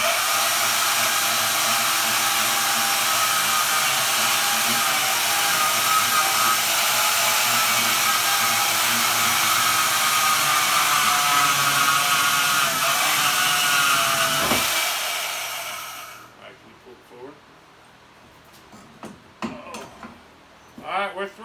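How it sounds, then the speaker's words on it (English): A power tool grinds through the last cut on a junk vehicle, a loud continuous high-pitched whine for about fifteen seconds that stops abruptly, followed by quieter clanks and handling sounds. "So let's see if we can do this with minimal grinding needed."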